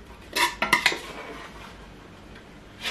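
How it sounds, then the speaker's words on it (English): Beans are moved from a pressure cooker into a stew pot with a clatter of metal utensils and pot rims, a short burst of several clinks followed by a quiet pause and one last knock. "So I have to take out the beans from the pressure cooker and transfer it into the stew."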